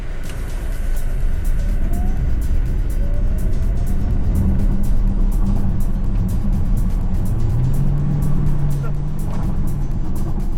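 The engine of a BYD Tang DM-i plug-in hybrid SUV drones loudly inside the car during a 0–100 launch-control run, rising in pitch as it accelerates hard, with a steady road rumble throughout and faint ticking clicks above.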